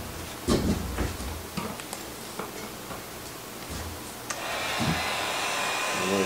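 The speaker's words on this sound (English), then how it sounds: "Put the bigger heat shrink over top of that. Grab my heat gun." A heat gun blows a steady, close airy roar while heat shrink tubing is shrunk during a fuel pump wiring job, with a few light taps and clicks around it and a higher whine near the end.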